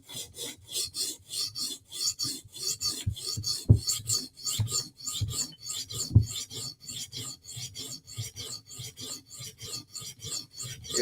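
A blade edge is sharpened with steady back-and-forth strokes, a rhythmic raspy scraping of metal on an abrasive, close and clear with roughly two strokes per second and no talking.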